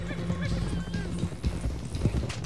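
Horses gallop in Red Dead Redemption 2 with a steady run of hoofbeats, loud and close, under dense game ambience, with a brief whinny-like tone early on and a voice speaking over part of it.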